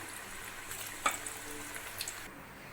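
Onion pakoda frying in oil over a low flame, a soft steady sizzle with a few faint pops and clinks, heard alone.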